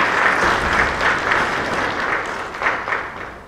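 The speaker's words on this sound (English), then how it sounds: "Give yourselves a round of applause." Audience applause fills a community speech event for an Indian community gathering in Dallas–Fort Worth, a dense, steady crowd clapping that swells slightly near the end, loud and close with no talk over it.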